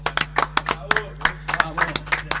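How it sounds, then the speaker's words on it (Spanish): A small group claps in a radio studio during a live reggae session: distinct, uneven hand claps, close and crisp, over a low electrical hum, with a voice briefly mixed in. "Un aplauso"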